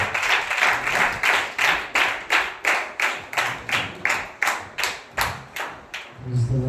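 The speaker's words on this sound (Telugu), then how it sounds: "పాస్టర్ చిన్నబాబు గారు వారు వస్తుండగా ప్రతి ఒక్కరు కూడా చప్పట్లు కొట్టి ఆహ్వానిస్తున్నారు" A church congregation at a Kothapalem gathering claps in unison to welcome Pastor Chinnababu, a loud steady rhythm of about two claps per second that slows and fades near the end.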